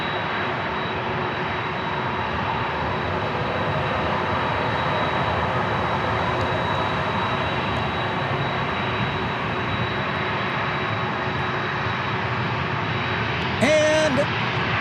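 A departing airliner taking off from San Diego International Airport, a steady broad roar that holds loud and even throughout, with a brief tonal blip near the end.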